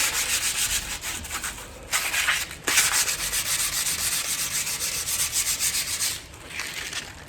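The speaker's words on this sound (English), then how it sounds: "give them a good rub, get most of that surface rust off" Old garden tools from a garage being rubbed hard to strip surface rust, a steady, close abrasive scrubbing in long strokes with a brief pause near the middle and a softer stretch toward the end.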